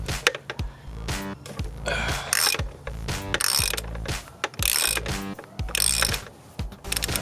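A ratchet on a long extension works loose the oil filter on a VW Jetta TDI, giving repeated close, crisp clicking strokes in uneven bursts, separated by short pauses, with no talking.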